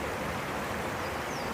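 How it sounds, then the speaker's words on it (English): A steady wash of flowing creek water, wide as a river, beside an old bridge on the Appalachian Trail, a soft even hiss with no other sounds. "Call this a creek, but"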